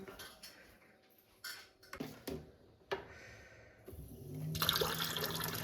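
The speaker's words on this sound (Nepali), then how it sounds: "सो यसमा तातो पानी राखौँ" Hot water is poured into a glass of cumin and fenugreek water that soaked overnight. A few faint clinks and splashes come first, then a steady, close pour fills the last second or two.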